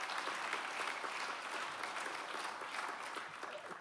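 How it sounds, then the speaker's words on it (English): An audience at a European research symposium applauds a panelist, with steady sustained clapping from a full room that holds for several seconds and then starts to fade. "Give him a big applause."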